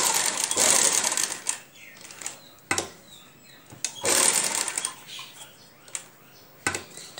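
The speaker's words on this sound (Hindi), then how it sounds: "चलो हुण मैं तुहानूं इत्थों उधर जाके सिरे तक सिलाई ला के दिखाउंदी हां।" A sewing machine runs in short bursts while stitching a shirt neckline with potli buttons, close and clear, each whirring run separated by pauses and light clicks.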